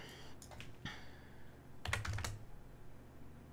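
Keys on a computer keyboard are pressed in a few scattered, sharp clicks, followed by a quick cluster of taps near the end, close and fairly quiet, with no talk.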